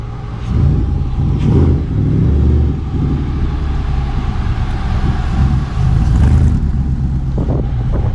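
A 1977 Ford Maverick and a Factory Five Type 65 Cobra Daytona roll in together, their engines a loud, steady low rumble with a couple of revving swells, close by and with no talk.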